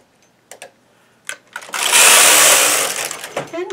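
A knitting machine carriage is pushed across the bed to knit a hem row, giving a loud sliding whoosh that lasts over a second, preceded by a few clicks and light handling sounds.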